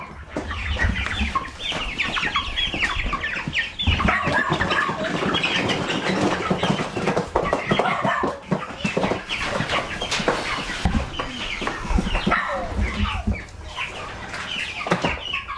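Chickens cluck and crow continuously in a shed converted into a coop, many birds close by, with busy overlapping calls and rustling over the whole stretch.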